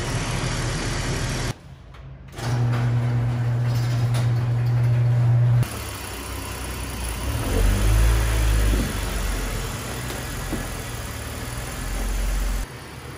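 A $500 BMW E46, back running after four years sitting broken, idles with a steady low engine hum and a slight rise in revs partway through; no voices.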